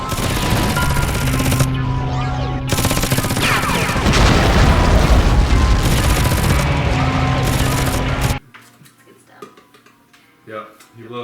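Machine gun fire and explosions from a Gundam anime scene, dense and loud, with booms and rapid bursts that cut off abruptly, followed by quieter scattered sounds.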